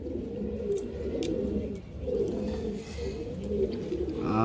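Pigeons coo in soft, repeated throaty phrases close by, their rolling calls overlapping with no voices.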